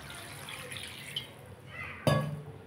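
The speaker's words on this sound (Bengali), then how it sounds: "আমি এবার জল দিয়ে দেবো।" Water poured into a pot of braised mutton curry cooked with yogurt, a brief splashing gush near the end after quiet kitchen background.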